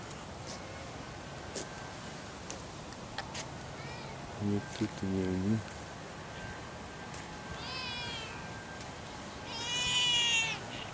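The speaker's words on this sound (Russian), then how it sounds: "Это кошка." A cat meows several times outdoors on the green, tidy grounds of a resort on Addu Atoll in the Maldives, short faint calls partly under a voice and background ambience.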